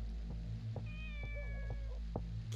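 A cat in the video game Shenmue gives a single drawn-out meow over a quiet in-game ambience with a steady low hum and soft, regular tapping footsteps.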